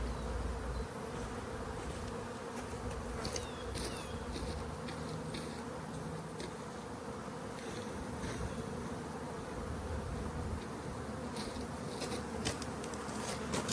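Honey bees buzzing around an open hive during a spring inspection, a constant dense hum filling the background at low-moderate level, with occasional louder individual bees passing close.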